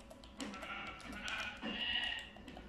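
Blocky video-game sheep on a Minecraft wool farm bleat repeatedly, several short overlapping bleats in quick succession, fairly close and clear, with no talking over them.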